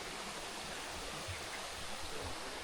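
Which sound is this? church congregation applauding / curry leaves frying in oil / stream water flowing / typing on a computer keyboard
stream water flowing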